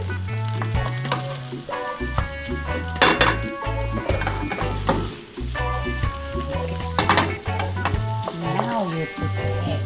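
Cooked rice and green onions fry in hot oil in a pan, a steady sizzle broken by scraping and clinking as a utensil stirs, while a tonal music bed plays throughout.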